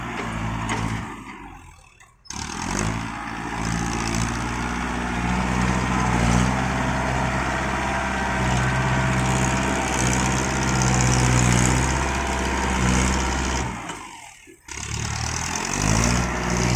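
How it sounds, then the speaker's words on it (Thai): A heavy six-wheel tractor engine drones loudly and steadily, labouring while pushing through solid clay, with its pitch shifting and a brief dip in the roar partway through. "แบบนี้ดันเหนื่อยเลยครับนี่รถไถ ดันยากเลยนะแบบนี้"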